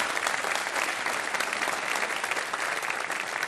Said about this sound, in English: I'd just like to invite one more round of applause for Robert Rosencrantz